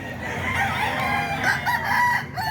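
Chickens and roosters at a fowl market, with a rooster crowing and hens clucking close by in a steady, busy chorus lasting a few seconds.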